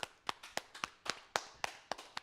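Hands clap in a small gathering after a religious class, about nine sharp, separate claps at an uneven, loose pace, moderately faint and with no talking.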